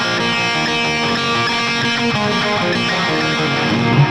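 Distorted electric guitar riff played with the delay effect left on, so the repeats smear into a dense, continuous, messy wash of sustained tones.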